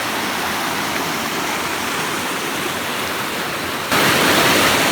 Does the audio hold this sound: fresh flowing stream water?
yes